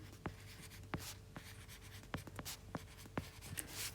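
Close pen strokes sketch a function graph by hand on paper during a maths prelim revision session, with sharp scratchy taps and short lines at an irregular pace over low background hum and no speech.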